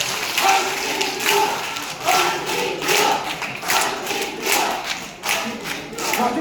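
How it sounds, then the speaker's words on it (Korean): Applause from the audience at an underground shopping arcade revitalization forum fills the room, with dense, steady clapping that comes in repeated surges and carries no speech. "박수 쳐주십시오."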